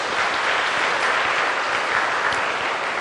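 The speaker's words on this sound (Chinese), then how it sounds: "大家给自己热烈的掌声一下吧" Dense, steady applause from a large audience at a Buddhist Dharma lecture, sustained at an even level for the whole stretch with no voices over it.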